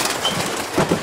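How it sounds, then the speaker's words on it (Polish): Breeding pigeons coo in a loft, a soft low murmuring throughout with two slightly louder cooing swells near the end, close by. "Tu są akurat moje gołębie rozpłodowe."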